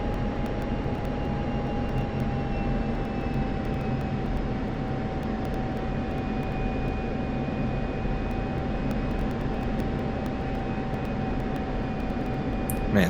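An F-16 Viper jet engine in DCS during a runway takeoff roll, a sustained loud roar with a steady high whine and faint rumble, unbroken throughout with no talking.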